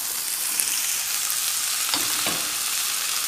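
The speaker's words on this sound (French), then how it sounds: "je vais faire revenir l'oignon avec donc le poivron" Onion and bell pepper fry in a mix of oil and butter with a loud, continuous sizzle close up, broken by a couple of brief scraping stirs, no voices.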